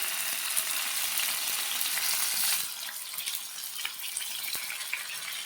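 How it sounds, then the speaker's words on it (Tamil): Paneer pieces frying in hot oil give a steady, loud hiss of sizzling that fills the clip and eases slightly halfway through, with small pops and crackles scattered across it and no talking. "இது நம்ம அப்படியே இப்போது எண்ணெயில் வந்து பொரிச்சு எடுத்துடலாம்"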